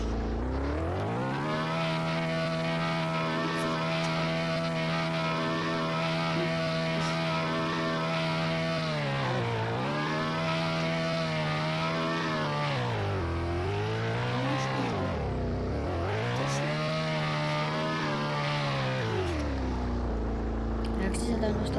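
Tractor engine in a video game, a loud droning motor holding a steady pitch, then dipping and rising several times as throttle changes, with people talking over it.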